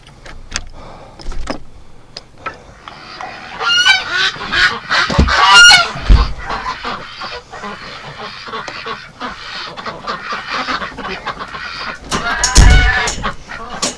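Ducks and geese wintering in a barn honk and quack in overlapping bursts, a busy flock calling at close range with occasional louder honks and light background rustling.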